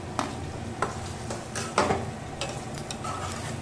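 Pieces of fried paneer go into a spiced masala in a hot pan and are stirred, a soft continuous sizzle broken by occasional close clinks and scrapes of the spoon, no speech.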